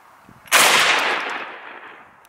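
A 12 gauge shotgun fires a Winchester XP3 sabot slug outdoors in a single loud, sharp blast, followed by a long fading echo and no talking.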